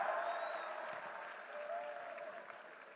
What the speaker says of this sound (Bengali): সবার জন্য সজোরে করতালি